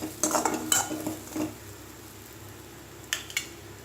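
Metal utensil scraping and tapping in a pan while coconut is stirred and fried for Kerala-style kadala curry, a handful of sharp clinks in quick bursts early on and again near the end, with a soft sizzle between.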